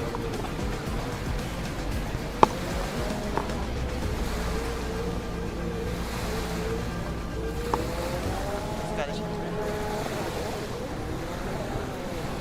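Pro Runabout 1100 personal watercraft racing on its last lap, engine droning steadily at a distance with rising and falling pitch over wind and water wash, a few sharp knocks along the way.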